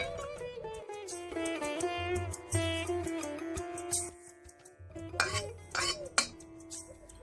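Pot of pumpkin cooked in chicken fat being lifted off the stove, giving a few close metallic clinks and scrapes of cookware over a low hum, with a voice talking faintly in places.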